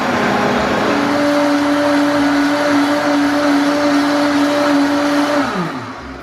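A blender whirs steadily at close range with a strong, even motor hum, blending a warm apple smoothie with cinnamon, then winds down near the end as the motor stops.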